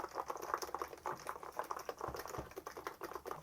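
Quick, light typing on a Hansung GK893B contactless (capacitive) keyboard gives a rapid patter of soft, bubbly, popping keystrokes, close and fairly quiet, with no talking.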